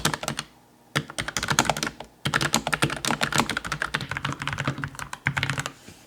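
Rapid, continuous clacking of keys on a WhatGeek Dukharo VN96 mechanical keyboard, close and fairly crisp, with a couple of brief pauses between bursts of typing.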